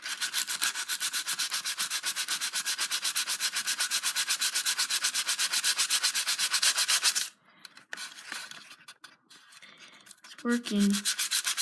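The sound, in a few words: sanding a Nerf gun with metal sandpaper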